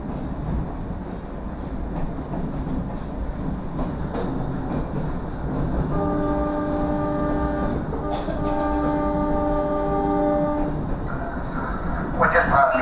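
A train on Australia's oldest line running along the railway near Middleton, with a steady rumble of wheels and carriage noise and a sustained multi-tone horn sounding midway, fairly close and continuous throughout.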